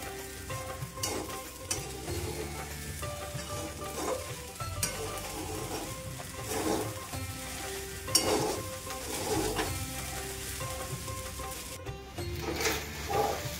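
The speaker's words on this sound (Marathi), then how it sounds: "मीडियम गॅसवर खिचडी आपल्याला छान परतून घ्यायची आहे" Sabudana khichdi with salt is stirred and sautéed in a pan over a medium gas flame, giving a soft steady sizzle with repeated scraping stirs and faint clinks, and no one speaks.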